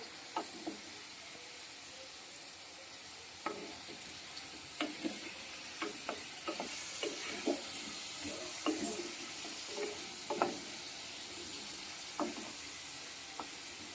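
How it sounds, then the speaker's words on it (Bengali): Potatoes frying in oil in a home kitchen, a soft steady sizzle with scattered crackles and pops spread through the clip. "আলুগুলো হালকা লাল লাল করে ভাজা হয়ে গেছে এবার তুলে নেবো"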